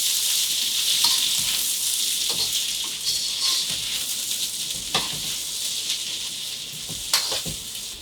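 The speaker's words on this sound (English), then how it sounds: "once the oil's hot, I'm going to add in the onions, peppers, and carrots" Onions, peppers and carrots sizzle loudly in hot oil for a ginger beef stir fry, a steady close crackle with occasional sharper pops as the vegetables are tossed, and no voices.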